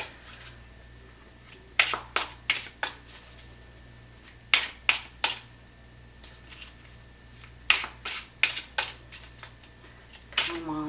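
Tarot cards being shuffled by hand, with quick bursts of crisp riffling in separate clusters that are separated by pauses, close and clear against a quiet room.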